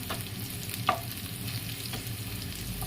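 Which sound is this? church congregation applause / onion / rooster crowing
onion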